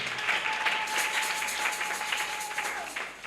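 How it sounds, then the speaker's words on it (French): A church congregation breaks into sustained applause during a sermon, a dense, steady wash of many hands clapping at once, with a faint held tone running under the clapping. "Acclamons pour la gloire de notre Dieu"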